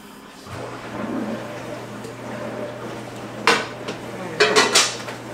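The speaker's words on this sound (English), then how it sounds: "when I move these pots and pans" Pots and pans clatter in a kitchen sink, a few sharp metallic knocks and scrapes near the end after a quieter stretch with a low steady hum, close by.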